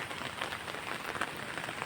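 Rain in the Konkan countryside, falling on trees and foliage, a dense steady patter of drops that stays close and even throughout.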